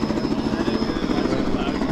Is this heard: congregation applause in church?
no